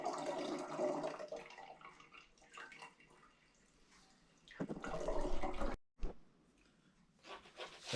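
Grape juice drains through a strainer in a home kitchen, a soft continuous trickle and patter of liquid with rustling handling noises, briefly interrupted then resuming, close and fairly quiet.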